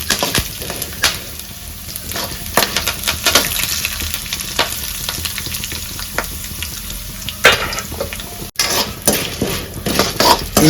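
Dal, cumin seeds and coriander seeds fry in a hot pan for drumstick leaf and curry leaf karam, giving a steady close sizzle broken by repeated scraping and clinks of a spoon stirring against the metal pan.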